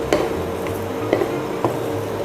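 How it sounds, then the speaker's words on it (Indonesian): Shrimp paste (terasi) being dry-roasted in a pan, with steady low crackling and a few sharp scraping knocks of a spatula against the pan at regular intervals. "langkah pertama Chef Kiki harus sangrai terasi terlebih dahulu"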